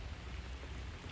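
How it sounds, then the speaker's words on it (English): Rain falls steadily outdoors as a dense, continuous wash of patter with no voices, picking up in intensity across the short stretch. "the rain's picking up now"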